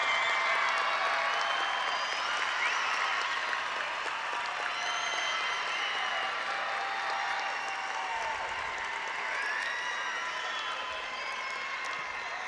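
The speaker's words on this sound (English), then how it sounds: "please rise and give them a round of applause" A graduation audience at Burbank High School gives sustained applause, dense steady clapping filling the hall at full strength for the whole stretch, with a faint murmur of crowd beneath and no talk over it.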